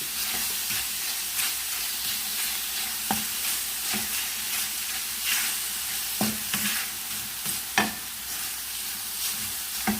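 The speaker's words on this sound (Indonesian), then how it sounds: "Ini daging ayamnya mau dimasak dulu." Chicken meat cooks in a hot non-stick pan, without oil yet, for martabak, giving a steady close sizzle punctuated by regular stirring clicks and scrapes from a utensil.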